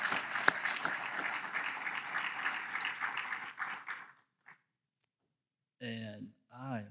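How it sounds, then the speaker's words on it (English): Audience applause for conference panelists at a closing session, a steady broad wash of clapping for about four seconds that fades out, followed by silence and then a person speaking. "So let's give them a round of applause as well."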